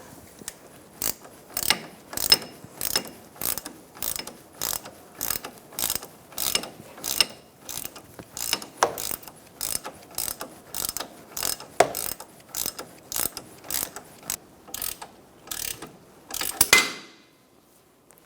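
A hand ratchet tightens a front strut bolt on a 2004-2009 Mazda 3, giving a long run of evenly spaced, sharp clicking bursts, close and loud, ending in a final heavier crank with no talking.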